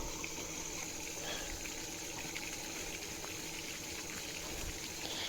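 Irrigation water let into a sugarcane field, flowing steadily outdoors as a continuous, fairly faint wash and gush with no talking over it.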